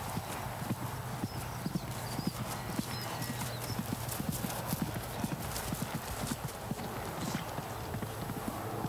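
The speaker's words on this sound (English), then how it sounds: "The horse is beginning to pull a little bit with Charlotte." Horse hooves cantering on a cross-country riding course, a steady rhythmic clip-clop of hoofbeats heard from a distance, faint and continuous, with a trainer commenting over them.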